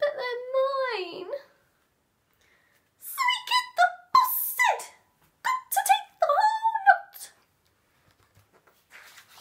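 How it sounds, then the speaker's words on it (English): A whimpering cry voiced for an elephant in a children's bedtime story, in short high wavering sobs, starting with one moan and then a cluster of broken whimpers, close and fairly loud, with brief pauses between. "Daddy Elephant gave a little whimper as the mice cheered and lifted up the sofa"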